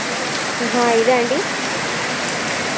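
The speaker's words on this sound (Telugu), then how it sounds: "వర్షం అనేది బాగా వస్తుంది" Heavy rain pours down in Vasai, Mumbai, a steady loud hiss of water throughout, with a brief voice and a short tonal chirp partway through.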